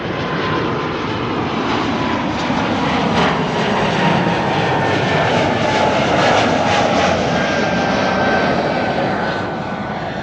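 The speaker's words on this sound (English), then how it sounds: "Delta Airlines flight 161, the A350 to Minneapolis, Minnesota, finally progressing" Airbus A350 jet airliner engines roaring loud and steady at Amsterdam Schiphol Airport, a sustained close rumble with slowly shifting whine as the aircraft moves, no talk.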